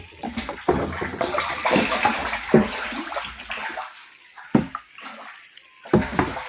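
Water pours steadily into a 500-litre barrel already holding jaggery, sour buttermilk and soil for an organic farm bacterial culture, a loud continuous splashing rush with brief dips and surges.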